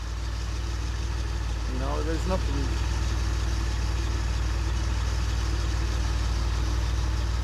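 A DeLorean's engine idles with a steady low rumble throughout, while a person briefly speaks over it.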